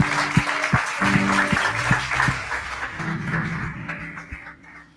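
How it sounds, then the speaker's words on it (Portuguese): A church congregation applauds for several seconds. The dense clapping sits over a low musical hum and fades gradually toward the end. "Pode dar um aplauso a Cristo."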